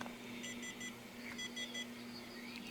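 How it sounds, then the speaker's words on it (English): Two bursts of three quick electronic beeps, high and thin, from a Lionel CAB3 train remote failing to find a base, over a steady low hum; a faint tone lingers afterward. "it beeps 3 times if it does not find a base"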